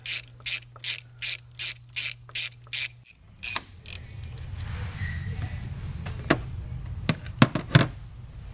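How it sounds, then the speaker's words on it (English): A ratchet loosens the bolts on a Range Rover thermostat housing, with about eight quick, evenly spaced bursts of clicking up close, followed by a low hum and a few scattered metallic knocks. "So we'll take the 3 bolts out and we'll remove the housing."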